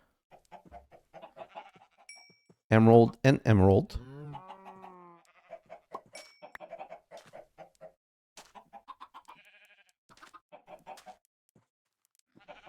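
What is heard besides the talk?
chickens clucking in a video game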